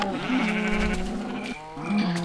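Sheep in the Minecraft video game bleating in two close, loud wavering calls separated by a short pause, heard alone without talk.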